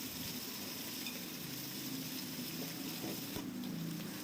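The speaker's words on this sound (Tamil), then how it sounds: "வெங்காயத்தை சேர்த்து நல்லா வதக்கி விடுங்க." Chopped onions sautéing in hot oil in a pan for mutton biryani, a steady, fairly quiet sizzle and frying hiss that runs continuously with faint stirring, no voices.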